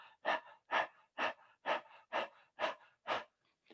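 A person imitates a dog panting with the tongue out: seven rhythmic, breathy huffs in a steady even pulse, close and fairly loud, with no speech.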